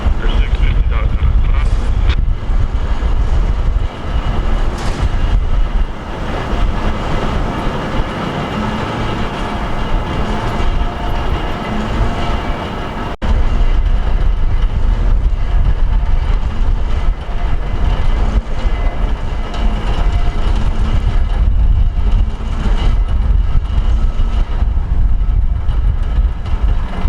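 A train rolls steadily across a railroad bridge at about 45 miles an hour, producing a loud, continuous rumble and rattle throughout, with faint speech under the noise.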